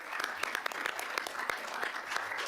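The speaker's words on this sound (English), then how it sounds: "just want to acknowledge Alec Tang with a round of applause" Committee members at an environment and climate change meeting give a brief round of applause, scattered individual claps with sharp distinct hits, moderately close and sustained through the short moment.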